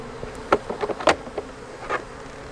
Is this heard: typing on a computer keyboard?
no